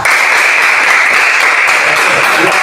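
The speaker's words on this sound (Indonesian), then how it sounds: "Tepuk tangan." A class of fifth-grade students claps hands together, a dense, steady burst of applause in a classroom that fills the whole moment without pause.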